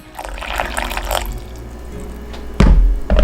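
Warm water, about 50 degrees Celsius, is poured into a bowl for hotteok dough, a short trickling splash with a louder gush near the end, close by.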